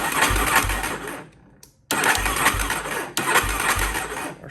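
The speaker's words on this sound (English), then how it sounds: "Our starter's working, our starter solenoid rather." A starter motor on a weathered cheap ATV cranks the engine in loud, steady whirring bursts, pauses briefly, then cranks again twice without catching.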